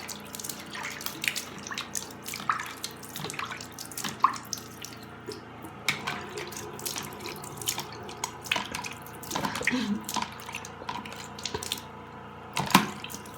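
Running tap water rinses a lip scrub off, with steady splashing and scattered drips close by, alone and without speech.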